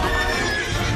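A horse whinnies in an animated Tangled scene during a daring night rescue, one loud, dense burst filling the short moment with no voices.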